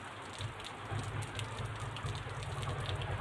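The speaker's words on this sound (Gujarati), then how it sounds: "વરસાદ હવે ફૂલ આવે છે." A downpour in the Gujarat countryside by a cotton field keeps up a thick, even roar of rain striking the ground and nearby surfaces, loud and close, with no one speaking.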